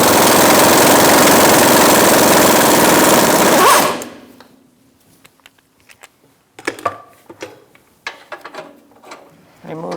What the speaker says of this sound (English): Now I'm using a 15mm swivel socket and an extension to take out this back bolt.